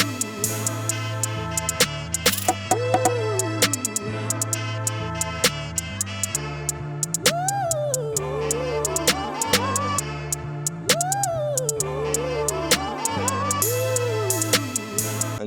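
Sampled melodic loop built on an MPC, layered with a basic programmed drum pattern of hi-hats, percussion, snares and crash cymbals over a steady deep bass, repeating in a tight groove, loud and continuous with no talking.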